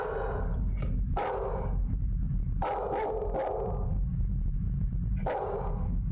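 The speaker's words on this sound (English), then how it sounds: "it's like the dog's being too loud" A dog barks loudly and repeatedly at close range, several heavy barks in uneven bursts over a constant rumbling background noise.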